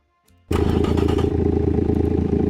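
A cast iron car engine in the video game Automation starts abruptly after a brief faint whir, then holds a loud, rough, rattling rev that settles slightly but stays harsh and close, with no talk.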